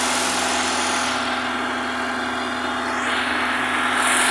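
The 1.3-litre engine of a Hyundai Accent LS idles steadily and close up, giving a constant hum with a mechanical whir and no change in revs.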